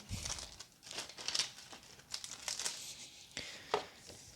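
Plastic Pokémon card pack wrapping from a Brilliant Diamond and Shining Pearl Elite Trainer Box crinkles close up in a run of soft, uneven rustles with a few sharper crackles, no talking.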